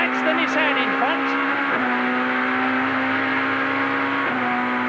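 Touring race cars in a 1992 BTCC race, a Nissan Primera chased closely by a BMW, with engines droning at steady high pitch and a gear change, loud and sustained under commentary.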